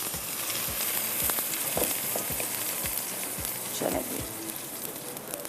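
Onions frying in hot oil in a home kitchen, a steady bright sizzle with light stirring scrapes and soft knocks at regular intervals, close and continuous; a single short spoken word passes briefly.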